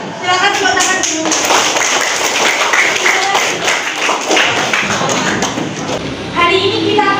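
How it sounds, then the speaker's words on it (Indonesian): A classroom of junior high students in Indonesia claps together, a loud, dense burst of many hands with thumps and taps, a few children's voices mixed in, fading briefly before a final flurry. "Silakan tepuk tangan dulu."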